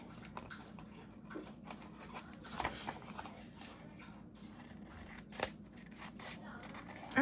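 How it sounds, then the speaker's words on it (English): Scissors snip through the sticky adhesive strip of a paper envelope during junk-journal crafting, a few soft close cuts scattered over steady room noise, with one sharper snip near the end. "I'm just gonna cut the whole thing off. I'll cut the sticky off."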